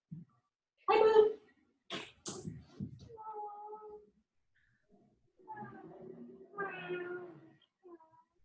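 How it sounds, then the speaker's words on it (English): A house cat meows several times indoors, with drawn-out close calls spread across a quiet room and a person speaking briefly between them. "She's a cat."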